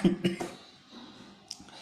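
A man coughs a few times in quick succession, a sharp cluster of three bursts at the start, followed by a quieter throat sound and faint room noise, with no talk.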